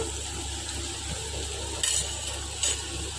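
Turmeric, coriander powder and garam masala stirred into hot oil for a paneer capsicum curry, giving a steady low sizzle with faint scraping of the spoon and two brief brighter hisses.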